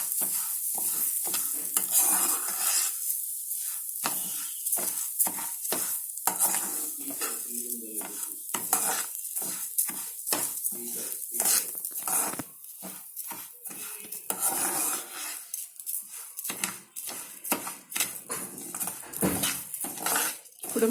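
Raw rice sizzles in a hot pan for sakkara pongal while a spoon stirs and scrapes it in quick, repeated strokes, with occasional clinks against the metal, loud and up close with no talking.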